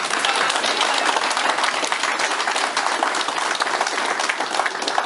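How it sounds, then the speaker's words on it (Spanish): Sustained audience applause at the close of a public-sector collective bargaining training session, a dense, steady wash of many hands clapping at even loudness throughout with no voices. "Un reiterado voto de aplauso."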